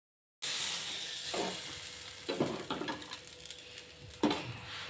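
Hot South Indian tempering poured into Chennai-style sambar, giving a steady crackling sizzle with several sharper pops and splutters as it hits the liquid, close and alone.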